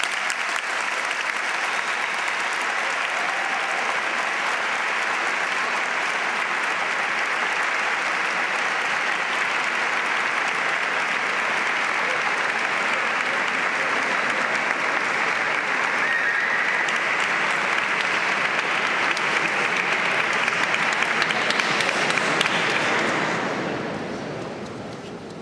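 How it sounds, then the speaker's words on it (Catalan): A festival crowd in Benissa gives long, strong applause for the herald of the Puríssima Xiqueta 2015 festivities, a dense sustained roar of clapping that holds steady for over twenty seconds before tapering off at the end. "Demane un fort aplaudiment per al pregoner de les festes Puríssima Xiqueta 2015"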